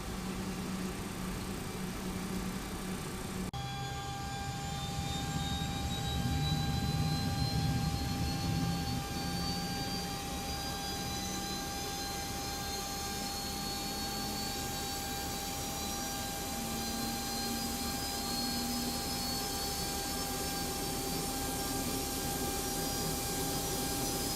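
An MD-11 auxiliary power unit in X-Plane 12 spools up and settles into a steady turbine whine and broadband roar, with a rising tone climbing slowly over the clip and a constant hum underneath, no voices.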